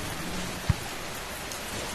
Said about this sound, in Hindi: बाहर अभी भी हवा बारिश चल रही है।